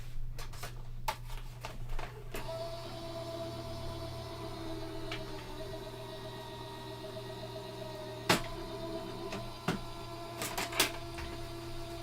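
A crafting die-cutting machine, fitted with an extra shim and a fresh cutting plate, presses cardstock with a steady low mechanical hum and occasional clicks and snaps, close by and with no talking.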